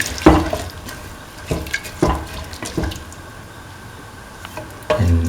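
Kidney bean and green pea mixture stirred in a cooking pot, a few distinct scraping, clattering strokes spaced a second or so apart over a faint background hiss, close and moderately loud.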